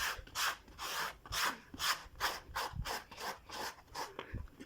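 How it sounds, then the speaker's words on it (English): Rough sandpaper rubbed back and forth over a slide slipper surface being made by hand, about a dozen quick, close, scratchy strokes in steady rhythm with no talking. "I'm going to roughen the surface, like use my rough sandpaper to roughen this"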